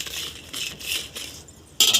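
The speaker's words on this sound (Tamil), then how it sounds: "ஒரு 4 பட்டை மிளகா அப்படியே துவையலுக்காக அழகாக ஒரு 4 பட்டை மிளகா போட்டு வறுத்துக்கிறோம்." Four dried red chillies dry-roasted in a kadai with no oil over a village stove give off short bursts of scraping and rattling, close and crisp, ending in a sharper clattering burst.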